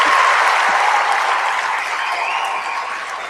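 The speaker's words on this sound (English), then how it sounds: "I definitely got to give you the applause for that one." Canned applause effect played on a live streamed show, a steady dense burst of clapping and cheering that stays loud before tapering slightly toward the end.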